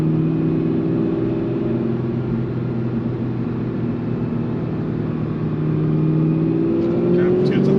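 An 800-horsepower Ford Mustang Cobra accelerating in first gear, heard from inside the cabin as a steady, low engine drone and road rumble that climbs slightly in pitch toward the end.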